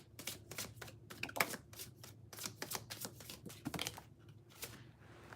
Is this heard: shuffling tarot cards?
yes